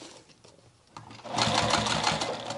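A sewing machine stitches around small strap connectors on a denim tote bag made from old jeans. After a quiet moment it starts with a click, then runs as a steady, close, fast whirring hum.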